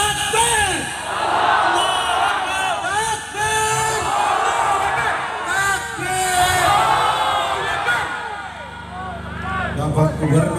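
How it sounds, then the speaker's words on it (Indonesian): A large crowd at a mass gathering outside the West Nusa Tenggara governor's office roars the takbir chant Allahu Akbar in loud repeated waves of massed shouting, with a leader's amplified calls among them. "mari kita teriakkan kalimat tauhid. Kita agungkan asma Allah. Takbir!"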